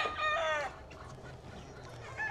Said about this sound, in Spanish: ¿Cómo sé que un gallo es buen semental?